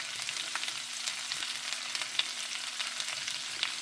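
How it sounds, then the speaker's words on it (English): Cabbage with a pinch of salt sizzling and frying in a pan, a steady close hiss with faint crackles throughout and no talking. "Okay, cabbage going in."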